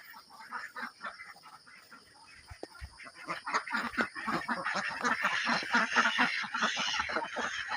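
Several ducks quack and honk close by in a poultry pen, in a busy overlapping chorus that builds and grows louder toward the end.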